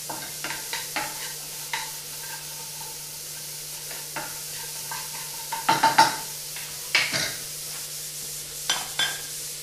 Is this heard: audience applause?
no